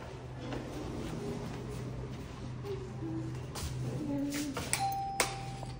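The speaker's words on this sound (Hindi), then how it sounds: "डोरबेल बजाओ।" A short electronic doorbell chime rings out near the end against a quiet, humming background.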